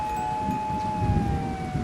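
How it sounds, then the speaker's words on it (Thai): A police siren wails in a Japanese horror video game, a steady high-pitched tone that holds without a break and sounds moderately loud over a low background rumble. "อุ้ยเสียงตำรวจ"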